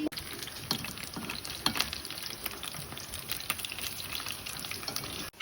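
Hot water splashes and trickles into a pot of rice for chicken biryani, with intermittent clinks and stirring sounds in a kitchen.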